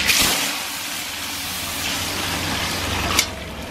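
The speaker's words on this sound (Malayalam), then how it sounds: "ഇതിലേക്ക് നമുക്ക് വെള്ളം ചേർത്ത് കൊടുക്കാം." Water poured into a pot of rice and spices for Ambur-style beef biryani, a steady close gushing rush that holds level for a few seconds with a brief splash near the end.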